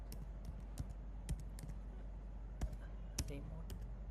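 Light keystrokes on a computer keyboard tap out a git command, a sparse, uneven sequence of close, faint clicks with short pauses in between and a steady low hum underneath.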